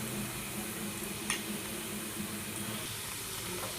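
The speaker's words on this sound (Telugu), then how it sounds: "అప్పటి వరకు ఉల్లిపాయలు అనేవి వేయించుకోవాలి." Onions frying in a pan while being stirred, a steady close sizzle with faint scraping of the spoon and occasional small clicks, no voices.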